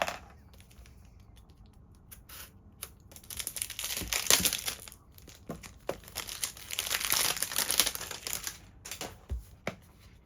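Packaging for a YuXin dodecahedron puzzle crinkles and rustles up close as it is unboxed, with bursts of crackling plastic, scattered taps and handling noises rising and falling throughout, and no talking.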